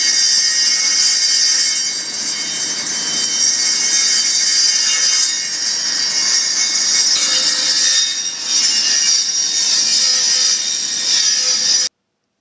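Table saw blade cutting angled pieces of wood, a continuous loud whine of the spinning blade through the whole stretch with a brief dip near the middle, no voices.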